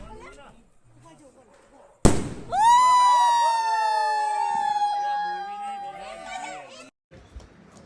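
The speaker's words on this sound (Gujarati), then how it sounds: "ફટાકડા મોજથી ફોડી દીધા છે" A firecracker bursts with a sharp crack during Diwali celebrations, followed by a long, loud whistling shriek that slowly falls in pitch before fading.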